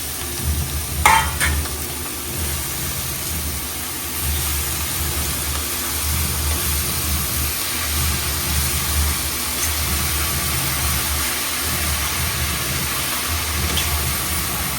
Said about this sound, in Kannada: ಅರಿಶಿನ ಉಪ್ಪು ಹಾಕಿ ಅದು ನೀರಿನ ಅಂಶ ಹೋಗೋವರೆಗೂ ಅದನ್ನು ಒಗ್ಗರಣೆಗೆ ಫ್ರೈ ಮಾಡಬೇಕು.